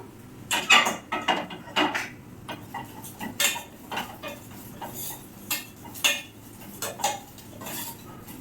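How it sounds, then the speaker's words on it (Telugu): Vermicelli frying in a pan for carrot payasam is stirred with a utensil, giving a rhythmic run of close scraping and tapping strokes with a faint crackle underneath. "ఇదిగోండి సేమియాలు వేసుకున్నాం కదా వేయించుకుందాం"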